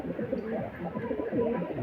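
Kasuri Face of Beauty pigeons cooing in soft, repeated low rolling calls, close and moderately loud, with a faint background murmur.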